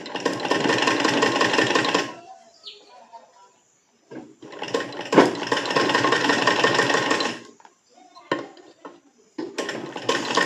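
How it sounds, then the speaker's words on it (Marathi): A sewing machine stitches katori blouse pieces together in three rapid, loud bursts of needle chatter, with short quiet gaps and light handling noises between runs. "दोन्ही भाग सोबत स्टिच करायचा आहे. चला तर आपण जोडून घेऊया कटोरीचा भाग."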